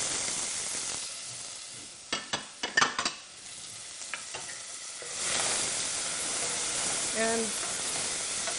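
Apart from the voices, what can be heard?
finely chopped onions frying with cloves in a pan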